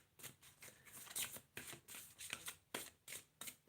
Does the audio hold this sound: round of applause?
no